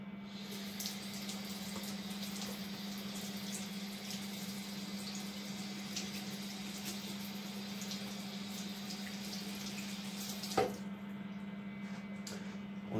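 A leather strap is soaked under a running tap, with a steady, faint rush of water flowing continuously, a low hum beneath it and one brief splash or knock near the end.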